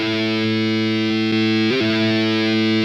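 Electric guitar played through a Roland VG-99 with reverb, a sustained distorted chord ringing steadily with a brief re-strike near the end, alone and fairly loud.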